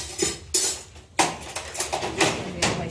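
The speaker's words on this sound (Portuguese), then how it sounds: "Vou pegar uma colher." A spoon clinks against dishes in a home kitchen while green corn is strained for corn porridge, giving several sharp metallic knocks and scrapes at close range with no talking.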